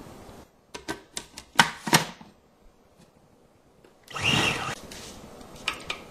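A food processor pulses flour, sugar and chunks of cold butter into crumbs, giving several short sharp whirring bursts followed by a longer grinding pulse, close and fairly quiet.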